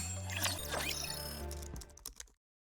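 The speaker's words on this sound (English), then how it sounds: "The sound of typing can be heard" Keyboard typing in the Goddess of Victory Nikke game comes as a short run of quick key clicks over tonal game music, then everything cuts to silence.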